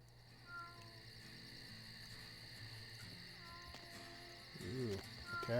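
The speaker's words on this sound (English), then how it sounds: "a cat" A cat meows in the video game Vampire the Masquerade: Bloodlines. The single short meow comes near the end, faint over a steady ambient hum and chirping insects.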